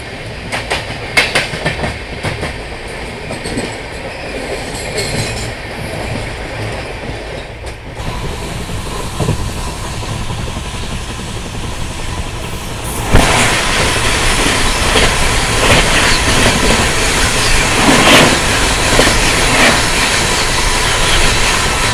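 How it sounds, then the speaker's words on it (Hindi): Saurashtra Mail 22946 running at speed, heard from onboard as a loud continuous rumble with clickety-clack wheel rhythm, then a sudden louder rushing roar as other trains pass close by in quick succession. "बैक टू बैक ट्रेन के क्रॉसिंग्स।"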